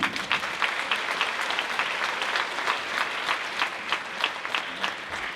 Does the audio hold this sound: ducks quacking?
no